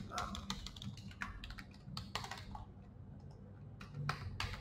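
Quick bursts of clicking keystrokes on a computer keyboard during Adobe XD design work, irregular and close, with pauses between flurries and a quiet voice murmuring underneath.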